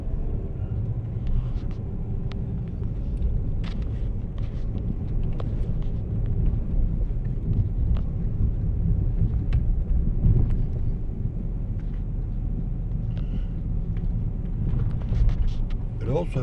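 A car rolls over a bumpy residential street lined with 1910s–1920s houses, giving a steady low road rumble with wind buffeting and occasional knocks, running under a voice throughout.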